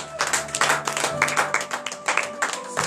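Congregation clapping and cheering together at a morning prayer gathering in Benin, a lively, close burst of applause with raised voices mixed in.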